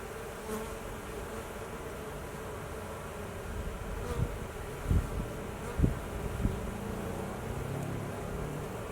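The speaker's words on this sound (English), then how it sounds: "Some bees carrying around some pollen." Honey bees buzz steadily at a beekeeper's hive in Colorado in spring, a dense continuous hum with a few louder passes of individual bees close by.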